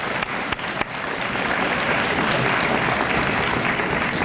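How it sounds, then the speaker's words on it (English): An honors assembly audience gives the students a steady round of applause, dense and sustained clapping filling the room with no voices over it. "Let's give these students another round of applause."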